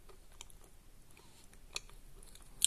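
Khrapovsky chalk being bitten and chewed close to the mic, with quiet, irregular crunches and clicks and a sharper bite at the end.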